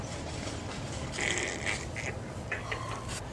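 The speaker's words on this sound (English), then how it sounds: "Got seagulls everywhere." Seagulls calling around a fishing spot, a few short squawking cries that rise above steady outdoor background noise at moderate distance.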